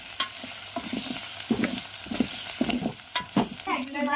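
Chicken-mutton masala paste frying in oil in a village kitchen, stirred briskly with repeated scraping strokes against the pot over a steady close sizzle; no talking.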